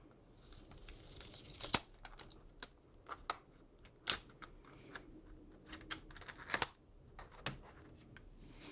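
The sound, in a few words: peeling plastic sticker off a passport holder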